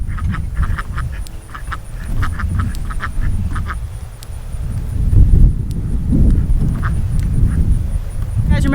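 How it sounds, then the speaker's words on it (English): Backyard ducks kept in a homemade pallet shelter quack in quick repeated runs, loud and close, with a voice talking and rustling sounds mixed in around them. "So you guys check out the ducks."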